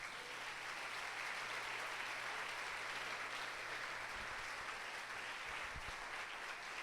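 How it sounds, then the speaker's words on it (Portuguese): A church congregation at a Pentecost week service applauds together, a steady, even wash of clapping lasting several seconds at a distant, fairly faint level. "Pode aplaudir o Senhor Jesus."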